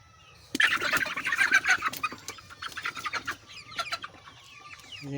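Young chickens, now grown, clucking inside their coop: a busy, close chorus of overlapping clucks and squawks that keeps going without pause, with no talking.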